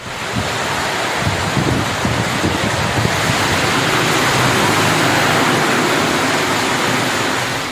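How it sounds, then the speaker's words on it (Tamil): Heavy rain mixed with strong gusting wind in Pudukkottai, Tamil Nadu, a loud continuous roar with rumbling buffets, no talking. "திடீரென பலத்த காற்றுடன் மழை பெய்தது"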